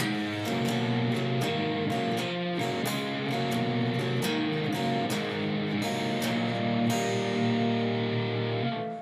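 A slow blues shuffle on electric guitar repeats steady picked string attacks with hammer-ons in an even rhythm, loud, close and unaccompanied throughout.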